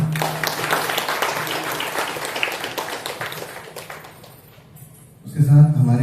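Applause from the crowd at a painting competition event runs for about five seconds before fading, and a voice starts speaking over the tail end.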